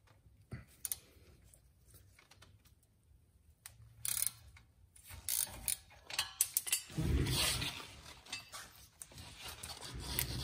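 A ratchet works loose WD-40-soaked bolts on the front suspension of a Porsche Cayman 987, giving bursts of close, sharp clicking that start and stop irregularly, with metallic clatter and louder knocks near the end.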